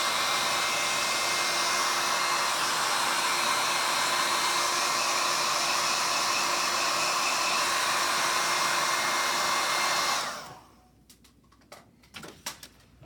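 A hair dryer blows steadily and loud for about ten seconds over freshly painted acrylic curls, then cuts off abruptly, leaving faint scattered clicks and handling noises.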